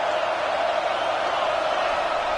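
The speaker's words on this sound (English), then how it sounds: "This crowd knows when to bring it" Oregon football stadium crowd roaring on third down, a steady, loud, unbroken wash of cheering with no break across the moment.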